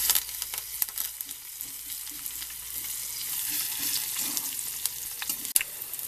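Crushed garlic sizzles steadily in hot oil while an Indian okra dish cooks, a loud continuous hiss with faint stirring scrapes and one sharp clink near the end.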